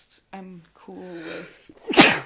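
A single sharp sneeze bursts out loud and close near the end, after a stretch of casual conversation between people talking.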